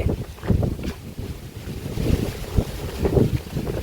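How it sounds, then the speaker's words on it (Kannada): Strong wind gusts sweep across an open village field after heavy rain, a loud continuous roar of buffeting on the microphone with surges and lulls and no voices. "ಫುಲ್ಲು ಗಾಳಿ ಅಂದರೆ ಗಾಳಿ ನೋಡಿ"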